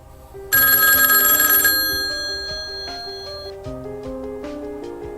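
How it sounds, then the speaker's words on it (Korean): A telephone bell rings loudly in a sustained burst, then its tone lingers and fades in a quiet room. "전화벨이 울리더군요."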